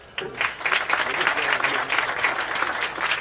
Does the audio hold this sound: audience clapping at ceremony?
yes